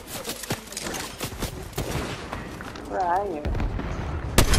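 Bursts of gunfire from a shooting video game crack out in quick clusters over close, excited talk between players, with a sharp louder shot near the end.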